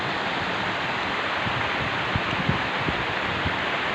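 Swollen village creek rushing after rain and snowmelt in a snowy mountain village, a steady broadband roar of churning water with occasional splashes, close and continuous, no voices.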